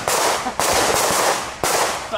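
Gunshots at an indoor shooting range in Tampa, Florida, three loud, sharp reports spaced about a second apart, each with a long ringing reverberant tail, very close.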